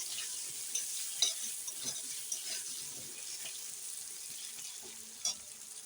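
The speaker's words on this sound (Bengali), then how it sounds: "আলুগুলো একটু ভালো করে ভেজে নিই" Potato pieces frying in hot oil, left in the pan used earlier for rohu fish heads, make a constant soft sizzling hiss with scattered small crackles and pops throughout, close and moderately quiet.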